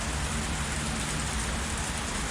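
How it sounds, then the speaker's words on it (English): Heavy rain pouring down in the visual novel Higurashi, a dense, constant hiss of falling water that is loud and unbroken, with no voices. "a heavy rain suddenly began to fall"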